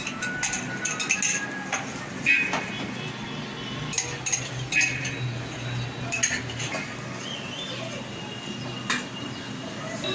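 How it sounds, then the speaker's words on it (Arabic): Utensil stirring ghee into Alexandrian basbousa batter in a bowl, with repeated light clinks and scraping taps against the dish at an uneven pace, close by. "احط بقى السمنه اهو نقلب"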